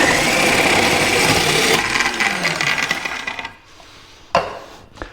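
Food processor fitted with a grater attachment, grinding and rasping loudly and steadily for about three seconds before winding down, then a brief clatter near the end.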